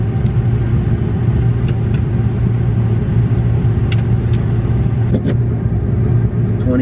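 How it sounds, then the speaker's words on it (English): A farm vehicle drives slowly forward during a soybean harvest, its engine making a loud, steady, low rumble throughout. A few faint metallic clinks sound over it. "you can just drive straight forward there, Jim."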